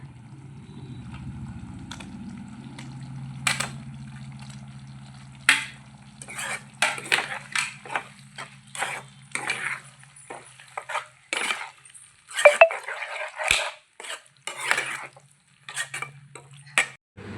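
Fried cauliflower pieces tipped into a pan for gobi manchurian and stirred with a utensil, giving a run of quick scraping clinks and taps after a quieter start with a low background hum.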